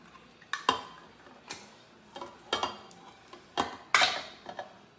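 A spoon clinks and scrapes around a dish while mixing crockpot meal ingredients with diced tomatoes, about eight separate knocks and stirs at an irregular pace, close and fairly quiet.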